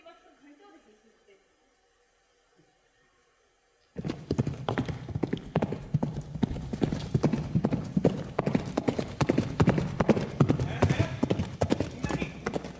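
Horse hooves clip-clop steadily and loudly as a horse passes, beginning abruptly after a few near-silent seconds and continuing densely to the end.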